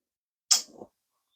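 A single short sneeze, a sharp hissing burst followed by a brief throaty tail, isolated against silence.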